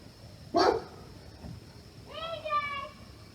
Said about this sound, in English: Dogs everywhere, I'm telling you what.